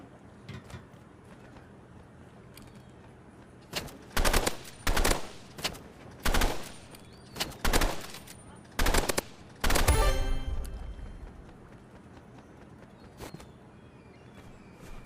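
Loud, close bursts of burst-rifle fire in a video game, about seven quick clusters of shots spaced roughly a second apart, the last one longer and trailing off.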